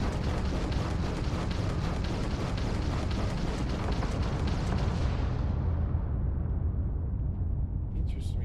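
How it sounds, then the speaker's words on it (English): Missile fire in the Starfield space video game sets off a sustained, dense rumble of explosions and booms that fills the whole clip, with the high end fading away near the end. "Okay, so the missiles are really powerful"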